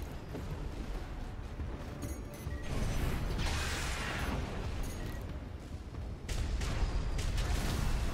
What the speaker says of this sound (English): Elevator going to the upper level.